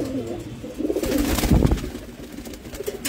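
Andalusian pigeon, a ring-banded young bird among domestic pigeons, cooing in soft low murmurs through the clip, mid-distance, with a fuller burst in the middle.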